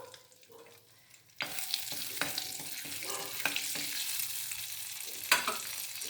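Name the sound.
whole garam masala frying in hot oil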